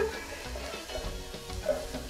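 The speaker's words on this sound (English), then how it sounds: "I'm just gonna throw in all of the minced garlic as well" Minced garlic sautéing in a pan while making coconut vegetable fried rice, a steady close sizzle with light stirring scrapes throughout, no talking.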